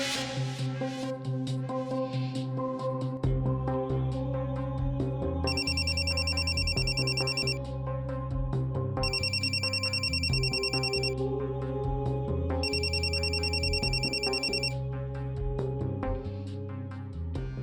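A telephone rings on a call, its bright electronic ringtone repeating in three regular bursts over continuous background music, with no speech.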